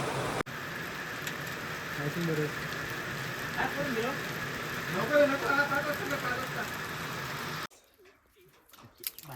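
Rain pours steadily in a dense, even hiss on a campsite while people talk over it, then the sound cuts off abruptly near the end.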